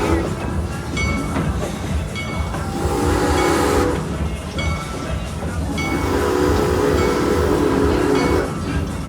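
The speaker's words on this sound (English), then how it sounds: "Now the train heads past the locomotive sheds where the locomotives and their consists are stored." An amusement park train runs on rails through a forest cutting and past locomotive sheds, giving a steady rolling rumble with mechanical clatter that swells slightly midway and holds loud and close throughout.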